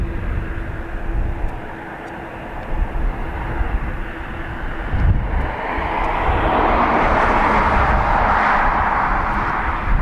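An Airbus A330 airliner departs Dublin Airport for Seattle, its jet roar building from a distant rumble into a loud, broad whooshing thrust that swells over the last several seconds.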